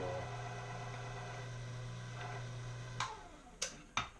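SL1 can seamer sealing the lid on a beer can during the second seal, with a steady motor whir that cuts off, followed by three sharp clicks or knocks.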